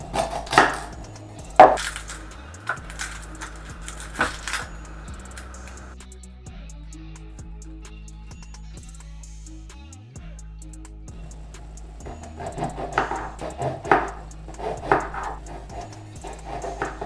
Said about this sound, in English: we're going to take our onions, peel them, and slice them up